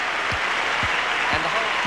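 A large cricket crowd rises and applauds Greg Chappell after his 182 in his last Test innings, a dense, steady wash of clapping and cheering with a few low thumps beneath.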